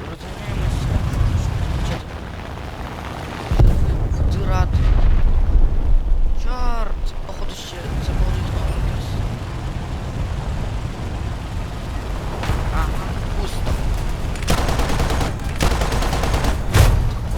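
Bombs exploding in a video game built around Japanese military aircraft: loud, continuous rumbling blasts and crackling bursts that fill the mix, with someone talking over them at times.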